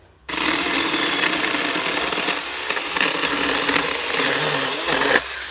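A Saker mini 4-inch electric cordless chainsaw cuts through wood with a steady, loud, high-pitched motor whine that starts abruptly and holds under load for about five seconds before easing off.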